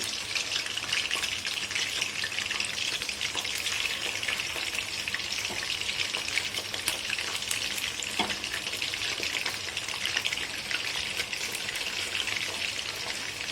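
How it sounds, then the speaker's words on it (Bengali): Prawns for galda chingri malai curry sliding into hot oil in a pan over low flame, a steady dense sizzle of frying that holds evenly throughout with faint stirring clicks. "ফ্লেমটাকে একটু লো করে নিলাম, নিয়ে আস্তে আস্তে মাছগুলো ছাড়ি।"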